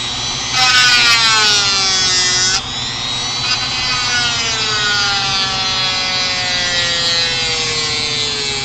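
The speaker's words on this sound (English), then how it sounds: "it sands so fast, there's no reason not to do it that way" Power sanding of a carved wooden planet piece for a model astrolabe, a steady close-up whirring grind with a sharper rasp at the start, continuing alone without talk.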